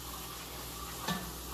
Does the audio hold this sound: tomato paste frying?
yes